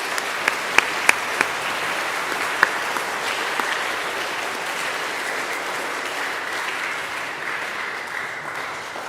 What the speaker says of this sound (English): So if we could give them all a round of applause once more.